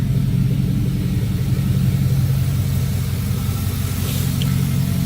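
A 2004 Chevrolet Suburban with stock headers idles after a cold start, its engine giving a steady, low, even rumble close by for the whole stretch, with no talking.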